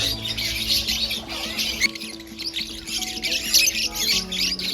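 Dense, overlapping chirps and tweets from many caged and free-flying birds at the Mong Kok Bird Street market in Hong Kong, a loud, continuous chorus with no voices.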